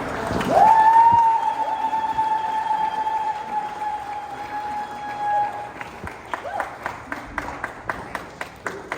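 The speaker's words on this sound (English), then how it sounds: "So please, everyone, join me in a round of applause." Audience applause at a City Hall ceremony in Los Angeles honoring Africa Day. A steady, sustained whistle-like tone rings over the crowd noise at first. Toward the end the clapping thins into evenly spaced, distinct claps.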